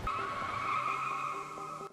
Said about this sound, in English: a car runs him over.